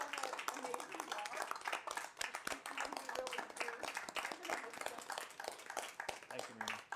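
An audience at a Blackfalds town council meeting claps in a steady, fairly close round of applause, with voices talking over the clapping.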